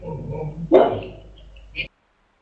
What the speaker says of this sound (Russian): Там уже от этого всего аж собака залаяла